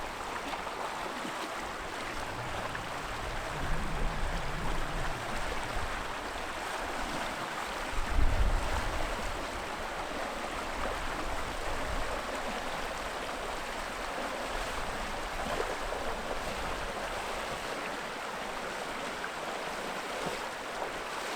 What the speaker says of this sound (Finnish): kuuntelin pitkän aikaa siinä sitä veden virtausta